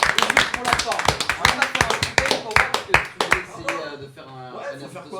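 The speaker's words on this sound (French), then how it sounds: "On peut peut-être applaudir Louise?" Applause from a small group at a live overnight stream event, a brisk run of sharp claps for about four seconds before fading out as voices carry on.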